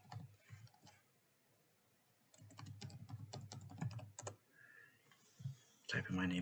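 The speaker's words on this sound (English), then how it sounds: "Type in my name again." Rapid typing on a computer keyboard, with bursts of clicking keystrokes separated by pauses, starting close and clear, followed by a few louder clicks near the end.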